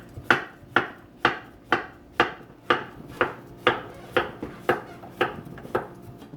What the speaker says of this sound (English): Just chop it roughly.